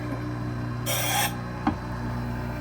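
A Wissota 911 skate sharpener makes one pass over a carbon steel skate blade set to a half-inch radius of hollow: a bright, half-second grinding hiss over a steady machine hum, then a short tick.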